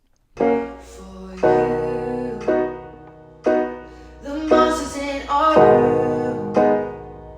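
A sparse, rough home recording of strummed or plucked chords, each struck and left ringing, with a voice singing over them in a plain, unpolished take.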